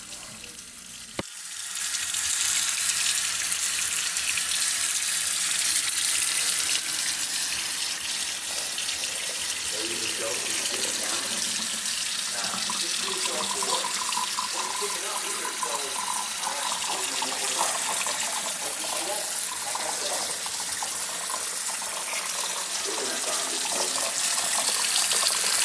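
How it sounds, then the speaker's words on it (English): Chilled tap water runs in a steady rushing stream into glass mason jars at a kitchen sink, a continuous close splashing hiss that starts abruptly and holds for the whole stretch. "I'm filling these glass mason jars with some chilled water to put my herbs in"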